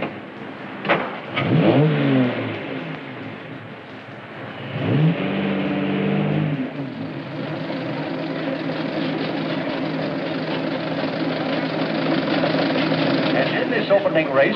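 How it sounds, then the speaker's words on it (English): Antique cars, a Stanley Steamer and a Ford Model T, sit at the start of a race, their engines rising and revving in rough swells before settling into a steady running drone. Voices talk over the engine noise. "Here is the Stanley Steamer, ready to defend its honor against the Model T."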